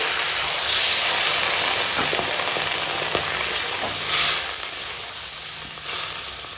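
Vegetables sautéed with spices sizzle loudly in a pan as water goes in, a broad steady hiss that swells in bursts, with faint stirring scrapes underneath.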